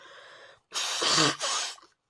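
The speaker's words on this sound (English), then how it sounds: "I'm going to blow my nose." A close, forceful nose blow: two bursts of breathy, honking blowing with a short pause between, after a quiet sniff.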